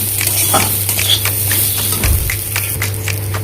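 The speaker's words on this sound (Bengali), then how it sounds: "চালটা কিছুক্ষণ ভেজে নিচ্ছি।" Rinsed aromatic rice frying and being stirred in a wok with bay leaves and chopped onion, a steady close sizzle broken by repeated scraping strokes of the spatula, with no one speaking.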